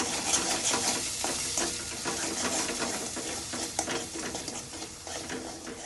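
Kashmiri chilli powder, turmeric, salt and paneer masala being stirred in a pan, with a spoon scraping repeatedly over a soft continuous sizzle of oil, close and steady.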